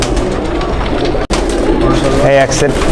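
Pakistani high-flying pigeons in a loft give soft, low cooing under the close, loud sound of someone talking, with a sudden brief dropout partway through.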